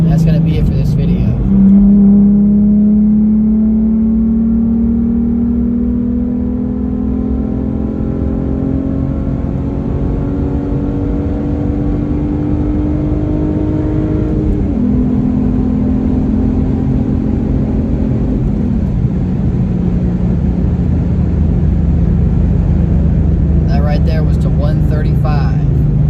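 A tuned V6 Ford Mustang engine revs loudly during a pull, its tone rising steadily through the gears with a brief drop at a shift, close and continuous for most of the run.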